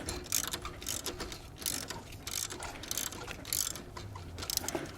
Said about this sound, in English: It's always a good idea to use a breaker bar rather than putting stress on your ratchet wrench. Breaking the torque on rusty old fasteners like this.